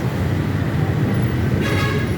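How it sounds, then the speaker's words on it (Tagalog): A loud, sustained horn blast from a 2025 Rusi Adventure X 150i motor scooter over constant engine and road rumble, the honk swelling in the final moments. "napakaangas lakas sa busina"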